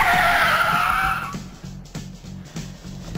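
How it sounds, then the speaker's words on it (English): Car tyres skidding hard from about 40 mph, a loud screeching squeal that fades after a second and a half, followed by a rhythmic thumping of the braking car coming to a stop. "A car moving at 20 miles an hour needs 5 metres to skid to a stop."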